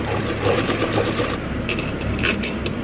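A sewing machine runs steadily, stitching a fine line of tacking on saree cloth for a blouse, its close, continuous mechanical whir shifting slightly in pace near the end.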